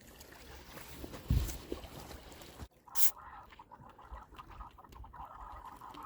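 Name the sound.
boat heard over the radio, with wind noise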